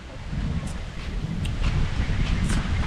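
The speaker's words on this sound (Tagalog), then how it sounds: "Grabe lakas ng hangin" Strong wind roars and buffets the microphone in a continuous low rumble, with faint rustling on top.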